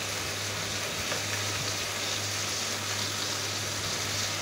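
Spice paste with turmeric powder, cumin powder and other ground spices sizzles steadily in a hot pan, a continuous close, even frying hiss with no voices.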